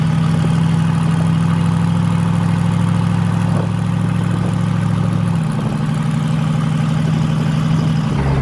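A twin-turbo Chevrolet Silverado build idles loud and close with a steady low rumble that drops slightly in pitch partway through, and no voices over it.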